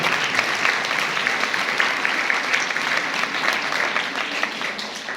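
A church congregation claps together during a Sunday service, a steady, dense patter of many hands sustained at an even level for several seconds.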